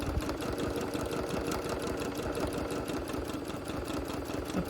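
A sewing machine doing free-motion quilting of curved grass shapes, a steady fast mechanical chatter of needle strokes running continuously at an even, moderate level with no talking.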